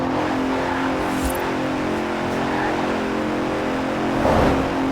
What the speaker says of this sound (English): The 2017 Continental Supersport is responsive, fast, and beautifully designed.